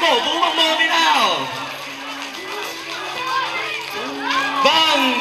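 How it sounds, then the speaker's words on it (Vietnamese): Wedding guests in Hanoi cheer and shout together, a dense crowd of adult and children's voices swelling loudly at the start, easing in the middle and surging again near the end. "Hãy cổ vũ bằng mồm đi nào."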